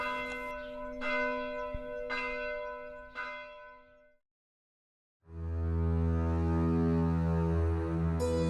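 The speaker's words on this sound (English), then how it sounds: "the cathedral bell in Chur was beginning to toll the Angelus for dawn" A cathedral bell in Chur tolls the Angelus at dawn, four slow resonant strokes ringing out and decaying, then a pause before a dense, loud sustained swell of overlapping bell tones.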